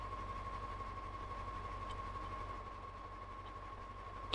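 A K700 tractor engine idles in the video game Farming Simulator 19, a faint, steady mechanical chugging with an even rhythmic pulse and a constant hum throughout.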